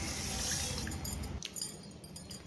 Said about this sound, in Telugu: తర్వాత వాటర్ యాడ్ చేసుకొని ఈ పప్పు అంతా నీట్గా కడుక్కోవాలి